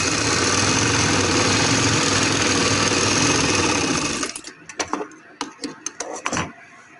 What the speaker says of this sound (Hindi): इस तरह से अंदर की तरफ फोल्ड करके इसके किनारे के ऊपर हम सिलाई लगा लेंगे